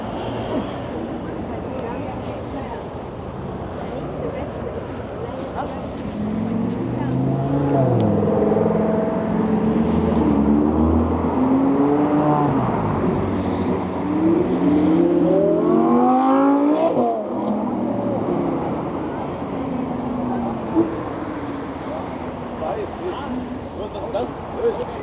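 McLaren and Audi R8 supercars drive past on a London street, engines rising and falling as they pass, heard from aboard a bus amid steady traffic rumble, with people talking nearby.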